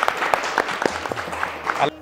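Applause from a gathering at an ashram's anniversary celebration, a dense patter of clapping lasting about two seconds before cutting off abruptly, with a voice heard over it.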